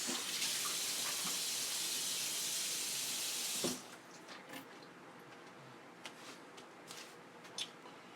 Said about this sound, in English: you should always rinse your vegetables and fruits before you cook or eat them